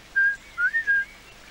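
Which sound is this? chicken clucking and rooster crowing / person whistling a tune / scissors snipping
person whistling a tune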